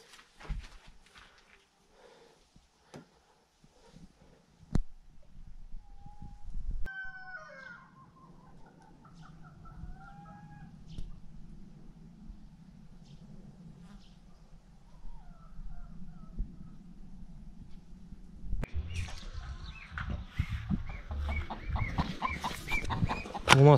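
Newly delivered farm hens cluck and murmur at moderate distance through a long stretch, with a rooster-like call early on and a busier, louder burst of bird noise near the end; no talking.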